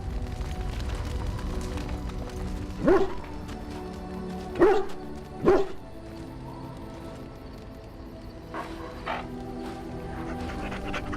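A dog in the game Dragon Age: Origins gives three sharp barks in quick succession, then two softer yips, over a quiet game ambience.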